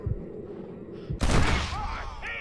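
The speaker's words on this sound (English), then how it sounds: "just shoot his hand" Gunfire from the Red Dead Redemption Wild West video game: a sharp blast with a burst of crackling shots in the middle of the clip, preceded by low thumps, with game sounds trailing after.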